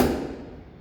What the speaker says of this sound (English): I want you to get an awl. These are awls, right? It's kind of pointy. And a hammer.